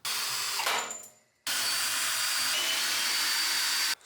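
A power tool backs screws out of a workbench foot in a garage, giving loud, steady whirring bursts, a short run that winds down, then a longer continuous drive that stops abruptly before a brief restart.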